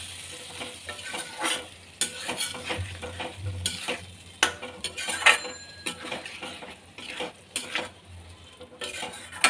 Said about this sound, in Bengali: এবার কিন্তু আলুগুলো দিয়ে মিনিট 2 নেড়ে তারপরে কিন্তু বেগুনগুলো দেবো।